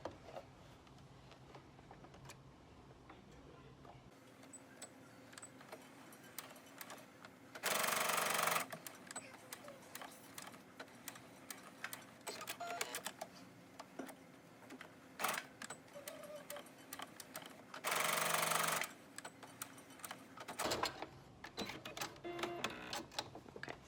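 Home sewing machine running a straight stitch on a pleated fabric face mask, heard as a steady mechanical whir in short bursts with quiet pauses and small handling clicks between, close and fairly quiet.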